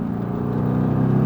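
A Mercedes-AMG GT R engine hums with a steady mid-pitched drone on a track at SpeedVegas, close and continuous, building slightly as it pulls along.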